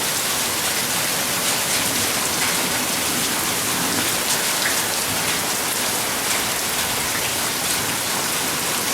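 Steady rain falling outdoors on a hot late-spring day, a dense, continuous hiss of drops pattering on surfaces, loud and even throughout with no voices.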